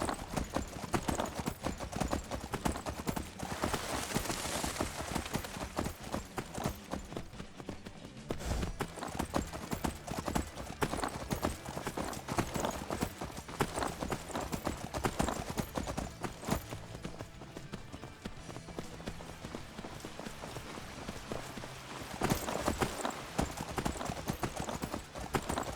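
Horse hooves pound in a fast, continuous clip-clop while riding in Skyrim, close and steady throughout with short pauses, and a few faint voices now and then.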